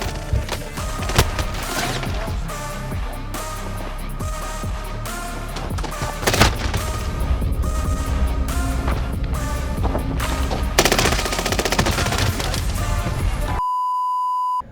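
Rapid full-auto fire from a 1911 pistol in Call of Duty Warzone, a dense, loud, continuous stream of shots with music and game effects layered in, ending in a short electronic tone.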